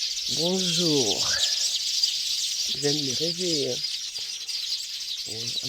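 Morning birds chirp and twitter steadily on a farm in Kasangulu, DR Congo, a continuous bright chorus running beneath someone speaking in French.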